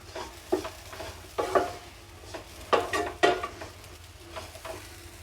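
Kachori masala filling of white peas gets stirred in a pan, with a series of scraping, clinking spoon strokes spaced irregularly over a soft sizzle, close and moderately loud, no talking.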